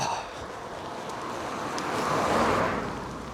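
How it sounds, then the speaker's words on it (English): A car passes on a road near St Abbs Head in March, a broad rushing swell that builds and fades over a few seconds under steady wind noise on the microphone. "More cars."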